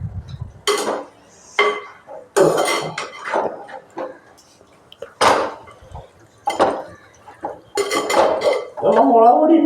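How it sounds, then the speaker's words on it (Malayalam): Metal spoon stirring food in a cooking pot: repeated loud scraping and clanking strokes in irregular bursts with short pauses between them, and no talking. "അത് നല്ലപോലെ ഇളക്കി കൊടുക്കാം."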